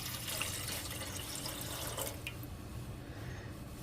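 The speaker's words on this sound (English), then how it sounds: "we're going to go ahead and put our 3 cups of water in this pan" Water is poured from a tap into a cooking pan before rice is added. A continuous, soft, hissing flow of running liquid with a few faint splashes is heard fairly quietly throughout.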